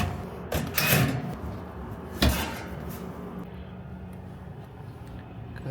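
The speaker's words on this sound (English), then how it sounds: "Go ahead, take this door off." The access door panel comes off a rooftop HVAC unit outdoors with a couple of sharp metallic clunks and rattles, then quieter handling noise.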